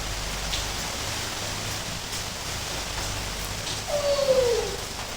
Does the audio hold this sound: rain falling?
yes